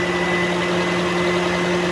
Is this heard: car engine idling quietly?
yes